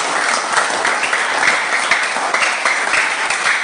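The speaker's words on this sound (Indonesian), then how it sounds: "tepuk tangan untuk Gladys." Clapping from students and guests at an elementary school farewell gathering in Indonesia, a loud, close, continuous patter of many hands that holds steady for a few seconds.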